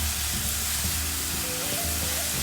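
Ginger and garlic sautéing in an oil-filled pan while cooking egg chukka: a steady, close, broadband sizzle with faint stirring underneath, continuous and without speech.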